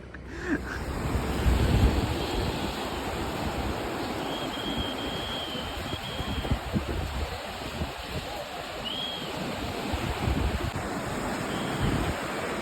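Surf washing in steadily at Vizag beach, a broad continuous roar with wind buffeting the microphone and a faint boat motor in the background.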